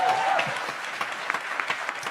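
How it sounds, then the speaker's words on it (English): Warm audience applause for a drummer at a live jazz performance, a brief steady burst of many hands clapping at moderate loudness, with a faint tonal sound at the start. "Let's give him a round of applause."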